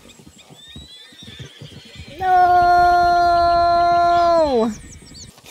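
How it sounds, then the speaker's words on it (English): A mustang horse in Red Dead Redemption 2 lets out one loud, sustained whinny lasting about two seconds before dropping off, close up, following a brief spoken exclamation and quiet game ambience. "Don't be messing with my horses now."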